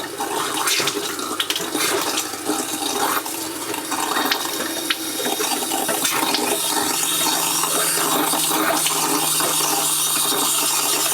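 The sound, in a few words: hot water running from tap in Geo Pro trailer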